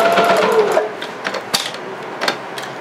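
A sewing machine runs steadily while backstitching a skirt waistband, a close mechanical whir that stops partway through. A few light clicks and handling sounds follow.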